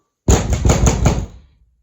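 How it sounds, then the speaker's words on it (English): Several quick knocks on a wooden door, close and fairly loud, spaced a moment apart with a short ringing decay after the last one. "Little Red Riding Hood had knocked on the door."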